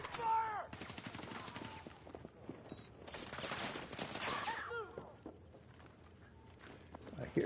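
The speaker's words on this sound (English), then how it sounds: "Just throwing a couple of grenades there." Battlefield 6 on PS5 erupts with rapid bursts of gunfire and thrown grenades, sharp cracks and rattling volleys fairly close and loud, overlapping in dense clusters with brief mechanical clicks between.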